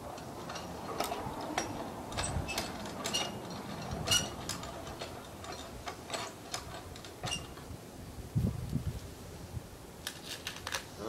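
A ratchet mechanism is cranked back, giving a quiet, close series of irregular mechanical clicks and ticks over a faint background, with no talking.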